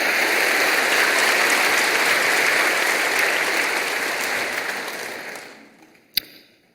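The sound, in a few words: applause from church congregation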